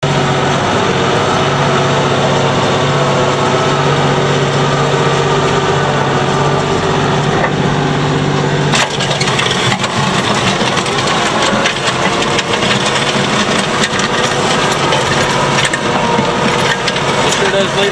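A tractor drags an implement across dirt and gravel, its engine droning loudly and steadily under a continuous grinding, scraping rumble, close up throughout.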